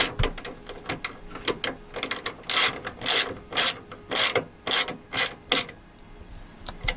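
A hand ratchet drives screws into the plastic housing of a driver-side window motor on a 1993 Ford Mustang Foxbody, giving repeated close clicking and grinding bursts in an uneven rhythm that grows louder toward the middle.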